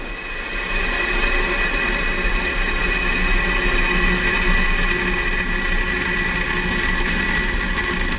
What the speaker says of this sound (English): Falcon 9 rocket launched carrying Iridium and Oneweb satellites. This is liftoff.